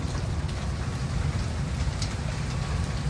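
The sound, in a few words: rain and thunder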